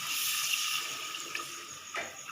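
One and a half cups of milk pour into roasted flour in a pan, a soft continuous liquid stream close by with a couple of small splashy gurgles, no voices.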